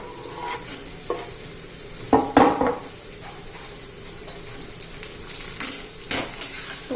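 Tomato goes into a pan of sizzling, frying food and is stirred, with soft frying hiss under irregular scrapes and clinks of a utensil against the pan, close and without talk.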